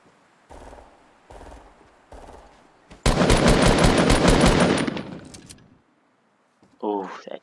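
Rapid automatic gunfire in the Fortnite video game, a few short bursts followed by a loud sustained volley lasting about two seconds, then a brief mechanical clatter near the end.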